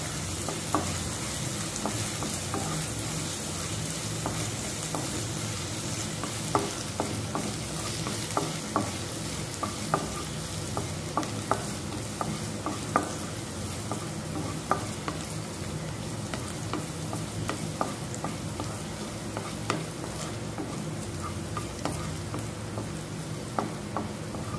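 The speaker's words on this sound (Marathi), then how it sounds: "कांदा तेलात चांगला मऊ होई तोपर्यंत परतून घ्यायचा आहे।" Onion sautés in oil while a spatula stirs it, with a constant sizzle punctuated by many sharp scraping and tapping strokes against the pan over a long stretch, and no talking.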